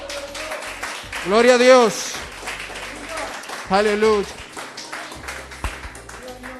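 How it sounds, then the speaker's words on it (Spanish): A church congregation applauds steadily in the background. Loud shouted praise from a voice rises twice above the clapping. "Denle un aplauso a Cristo."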